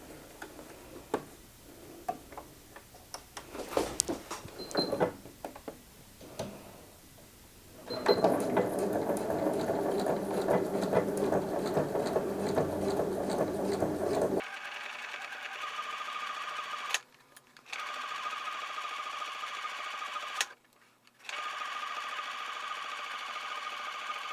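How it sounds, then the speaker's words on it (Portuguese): Sewing machine stitching a triple pencil case, running in short bursts with a rapid ticking needle rhythm, then a longer steady run and a few clicks and pauses, close and moderately quiet. "eu vou passar uma costurinha aqui, ó, desse lado aqui"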